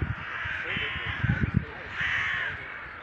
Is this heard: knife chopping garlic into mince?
no